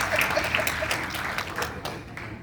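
Scattered audience clapping at a panel discussion on young people's role in Uganda's multi-party politics, a steady, moderately loud patter of hands that lasts a couple of seconds.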